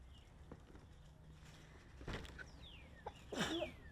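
A single sharp sneeze bursts out near the end, loud and close, over a quiet room with faint rustling and a brief earlier noise.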